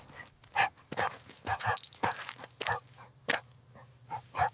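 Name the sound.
dog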